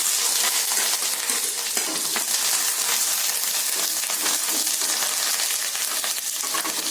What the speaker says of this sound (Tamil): அது லைட்டாக பொரிஞ்சு வரட்டும் இது பொரிஞ்சு வந்தோடனே நம்ம எடுத்து வச்ச கருவேப்பிலை ஆட் பண்ணிடலாம்